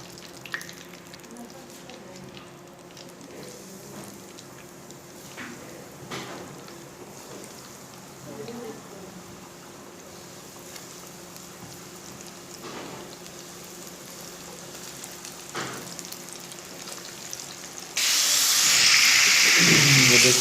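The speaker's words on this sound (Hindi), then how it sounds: "और बाकी जो बचे हम वो भी फ्राई कर लेते हैं साथ के साथ" Chicken strips frying in hot oil, a steady low sizzle and hiss with occasional pops, swelling into a much louder, brighter sizzle near the end as more pieces go into the oil.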